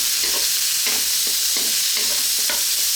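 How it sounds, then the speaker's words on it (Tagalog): Sweet corn and chili being stirred into frying pork fried rice with garlic and onion in a pan, a steady sizzle under repeated scraping stirs of the utensil, close and alone with no talk. "So, haluin lang natin."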